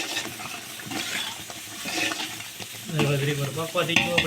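Tomato paste sizzles and is stirred in a pan while cooking pav bhaji, a soft continuous frying hiss with scraping stirs, growing louder in the last second or so.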